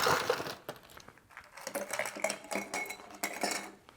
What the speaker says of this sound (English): And now I'm going to fill my glass up with some cubed ice.